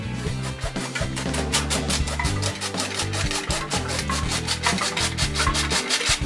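An old-fashioned hand-cranked flour sifter works flour for chocolate chip cookies, giving a steady rhythmic scraping and rubbing that repeats without pause over a dense low hum.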